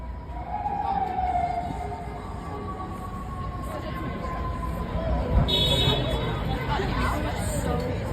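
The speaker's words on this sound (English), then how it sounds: "Siren." An emergency siren wails and sweeps in pitch on a busy New York street along Broadway near Penn Station, moderately distant, over city traffic noise and crowd chatter.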